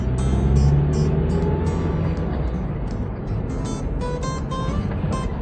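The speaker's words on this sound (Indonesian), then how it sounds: "mesinnya masih bagus kalau kita gas spontan begini" A 1.3-litre Toyota Starlet SE EP71 engine revs under quick throttle blips, a steady droning hum with rising pitch, heard close and continuous against faint background noise.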